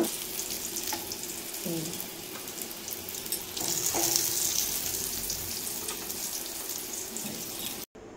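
Eggplant slices coated in turmeric and salt frying in a pan, a steady close sizzle with a few faint clinks, swelling slightly midway before cutting off abruptly near the end, no speech.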